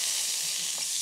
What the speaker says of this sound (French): Là, on va faire bien dorer la viande.